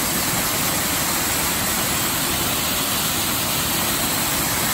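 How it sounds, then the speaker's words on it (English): A 20-foot waterfall pours out of a beaver pond at full flow, making a loud, steady, unbroken roar of rushing water that stays constant throughout, with no voices heard. "And this waterfall is absolutely gushing."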